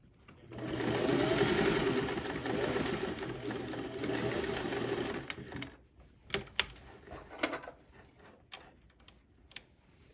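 A sewing machine runs steadily for about five seconds, closing a gap on a zipper panel for a sling bag, then stops; a few sharp clicks and handling knocks follow.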